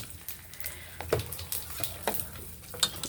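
Tempering spices crackle and sizzle in hot oil in a pan, with a few sharp pops and stirring scrapes over a steady frying hiss, close and fairly quiet.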